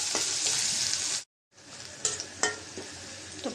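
Onions and green chillies frying in oil in a kadai, a steady close sizzle that cuts out briefly, then resumes with a few sharp stirring clinks and crackles.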